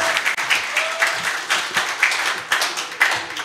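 Banquet audience marking the 106th anniversary of President Park Chung-hee's birth bursts into sustained, dense applause, many hands clapping at close range in a steady rolling wash with a few sharper peaks throughout.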